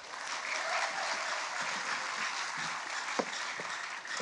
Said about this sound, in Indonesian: Sekali lagi saya mintakan untuk memberikan penghormatan tepuk tangan yang sebesar-besarnya